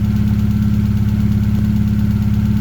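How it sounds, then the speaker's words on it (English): An Alfa Romeo 155 engine idling without its exhaust fitted, with a steady low rumble and a faint, rapid ticking from a slightly dry hydraulic lifter, close up and continuous. "there's ever such a slight little ticking. That's going to be just a slightly dry hydraulic lifter."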